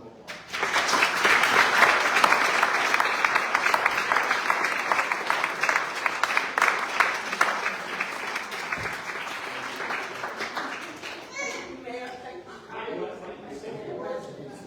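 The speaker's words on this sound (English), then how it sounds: "So we give her a round of applause." Applause at a village board meeting, a sustained round of clapping from a modest room of attendees that swells quickly and continues for over ten seconds before fading as talking resumes.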